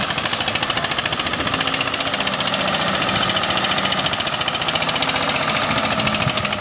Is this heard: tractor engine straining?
yes